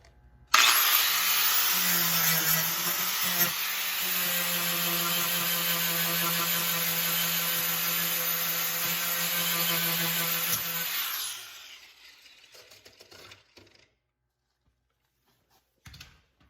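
An angle grinder with a flat wheel takes a car body panel down to bare metal, a loud steady high-pitched whine holding for about ten seconds before spinning down and fading into quiet.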